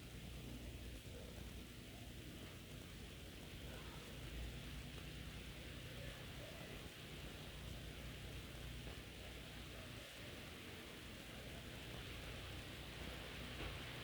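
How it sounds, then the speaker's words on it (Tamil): Heavy rain falls steadily in a village setting, a dense unbroken hiss lasting the whole stretch, fairly distant and soft, with no talking. "சரியான மழை பெய்யுது எங்கள் ஊரில்"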